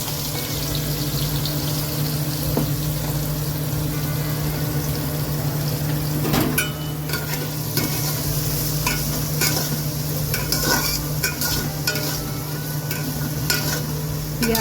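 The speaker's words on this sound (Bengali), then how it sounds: "আগে পেঁয়াজটা ভেজে নিই।" Chopped onions sizzle steadily in a hot pan as a spoon stirs through them, with a constant frying hiss, a low hum, and repeated scraping and clattering strokes clustered in the second half.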